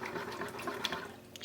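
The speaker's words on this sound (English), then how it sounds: "So we're gonna just lightly pour it in" Liquid pours steadily into a mixing bowl of Jamaican Easter bun batter, a continuous close splashing trickle with no voices.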